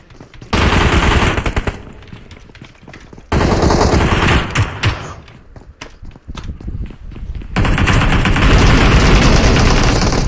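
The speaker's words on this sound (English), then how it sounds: "Shots coming out." Loud, dense automatic gunfire erupts in an esports video game scrim match, coming in sustained bursts with short lulls between them and sounding close and aggressive.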